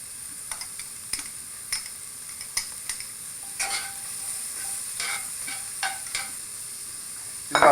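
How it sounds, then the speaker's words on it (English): Diced carrots frying in a pot before lamb shanks are slow braised, giving a steady soft sizzle broken by a string of sharp scraping clicks and knocks as a utensil stirs them, with a louder clatter at the end. "So we're going to go with the hard vegetables first. Let's get some color on these carrots."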